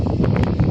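Wind buffets a microphone at a gravel roadside stop on a motorcycle camping trip, a loud, close, continuous rumble with gusty flutter and no talking.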